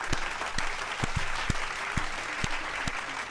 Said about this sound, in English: Clap it up for Wavy Y.